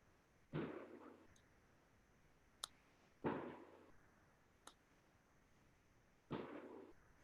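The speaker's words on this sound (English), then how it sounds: "can anybody hear the fireworks?" Fireworks go off outdoors, heard through an open door as three distant, muffled booms spaced a few seconds apart, with fainter sharp pops in between; quiet and alone over low background hiss.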